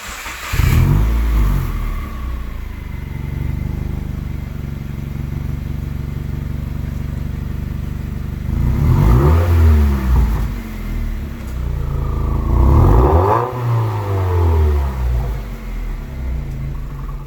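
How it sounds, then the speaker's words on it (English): Loud car exhaust with a muffler delete and the resonator still fitted, idling with a deep rumble and revved in three sharp bursts, near and alone. "So this is what it sounds like right now."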